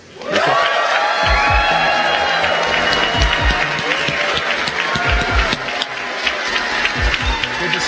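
Large audience at a 2016 AMD Ryzen tech event breaking into loud, sustained applause and cheering as the CEO takes the stage, a roaring crowd with whoops, claps and scattered shouts throughout.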